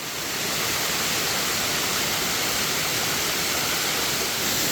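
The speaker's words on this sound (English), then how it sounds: "the water starts falling from above like a natural shower" Waterfall near a cave entrance in Malang, Indonesia, a loud, continuous roar of falling water, close and steady throughout with no voices.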